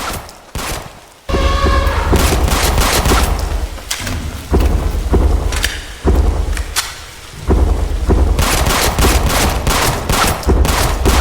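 Heavy, rumbling bursts of repeated gunfire in the Roblox survival game 7 Days to Survive, loud and dense, mixed with a storm-like roar, with short pauses between volleys.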